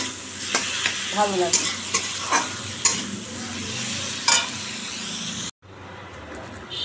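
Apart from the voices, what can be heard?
stirring and frying pointed gourd in oil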